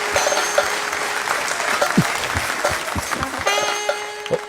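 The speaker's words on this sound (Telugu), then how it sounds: "give him a big round of applause" An audience at an indoor gathering applauds, a dense burst of many hands clapping that carries on steadily and close, with a few louder claps standing out.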